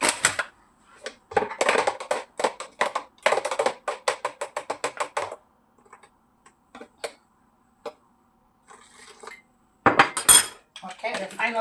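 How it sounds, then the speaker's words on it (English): A spoon clinks repeatedly against a container while sweetener is added to homemade watermelon juice. The clinks come close and crisp in quick bursts, separated by short quiet gaps. "I'm gonna add some bit of a sweetener to it. 2 spoons are okay."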